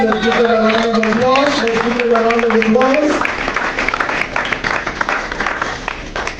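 Applause at a skills academy graduation follows a sustained tonal sound, rising as a dense, close clapping wash that continues to the end.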